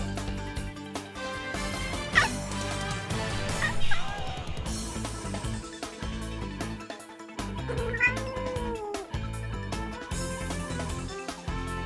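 A kitten meows a few times amid a dense bed of music and background sound at a football-themed pet adoption broadcast, the cries fairly faint and partly masked.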